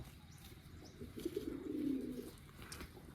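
A pigeon feeding on grain gives a soft, close cooing call in the middle, over quiet outdoor background noise with faint wing or rustling sounds.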